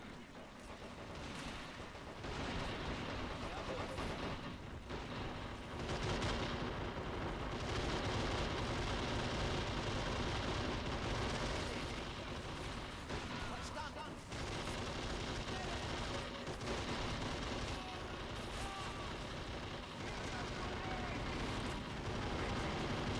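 Relentless gunfire from heavy machine gun teams in a Men of War Assault Squad 2 multiplayer 3v3 battle, loud and dense for the whole stretch, mixed with booming explosions and crackling volleys with no pause.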